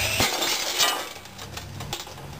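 Glass smashing in the video game Psycho Circus: several sharp, bright shattering bursts with crackling debris, loud and close, and no talking.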